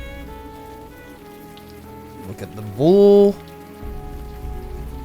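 Rain in the video game Unavowed forms a low, steady patter beneath a short spoken line and a rising, tonal game sound.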